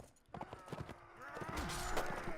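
Horse hooves clip-clop in a Mount & Blade Warband battle, a quick irregular patter of close strikes, with a neigh and rising battle noise toward the end.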